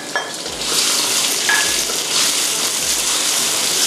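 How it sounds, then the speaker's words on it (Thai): Steady loud sizzling of chili and garlic stir-frying in hot vegetable oil in a wok, with a few scraping stirs of a utensil in the pan. "ผัดให้พอหอมค่ะ"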